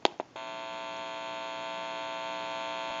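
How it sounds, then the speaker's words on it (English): A couple of brief clicks as the button on an Automatic Electric GTE rotary desk telephone is pressed, then a steady, fairly quiet electrical hum that holds for the rest of the moment. "You may hear a little bit of an electrical hum."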